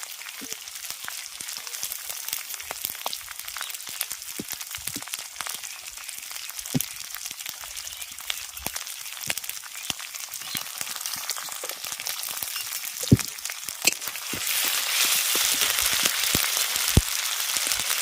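Sliced onions frying in hot oil in a pan make a steady, soft crackling sizzle that carries on throughout, with occasional sharper pops. The sizzle grows brighter and louder near the end.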